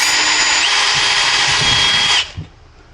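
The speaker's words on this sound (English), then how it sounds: "I only have to drill through the wall of these things" A power drill whirs loudly at high speed for about two seconds drilling through the plastic wall of a Jeep Wrangler storage part, then cuts off, followed by a faint clunk.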